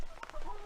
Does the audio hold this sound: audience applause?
no